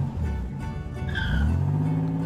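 Cartoon car engine cranking and turning over after an oil top-up, then revving with a rising, steady drone that swells louder toward the end, with no talking.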